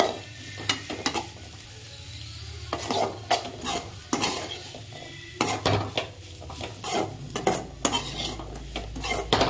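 Grated coconut stirred and sautéed in a pan for a Tamil avarakottai snack, with repeated spoon scrapes and clinks against the pan over a low sizzle, steady and close throughout.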